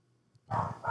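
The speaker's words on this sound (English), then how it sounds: "That's your dog." A dog barks indoors during a casual podcast recording: two short, fairly loud barks in quick succession after a near-silent moment.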